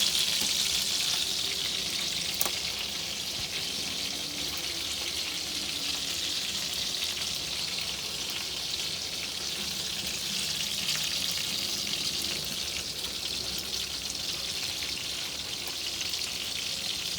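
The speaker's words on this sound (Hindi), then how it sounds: "अब हम इनको ताल देते हैं।" Kacha keema kababs fry in hot oil with a steady, dense crackling sizzle that stays loud and even throughout, with no talk.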